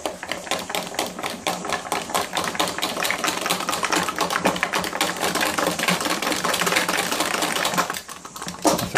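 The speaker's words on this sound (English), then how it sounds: "Don't want to over whisk it, so I'm going to spend like half an hour whisking it." Cockle fritter batter with flour is whisked briskly in a bowl, a fast continuous rattling and scraping of the whisk, close and loud, keeping up a steady rhythm before briefly easing near the end.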